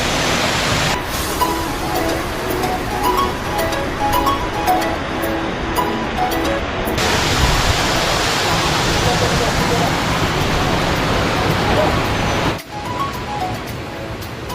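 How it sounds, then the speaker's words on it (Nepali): The Jhorr waterfall roars close by: dense, loud, unbroken rushing water that holds steady for the whole stretch, with a brief dip near the end. "गाइस झरना यही हो"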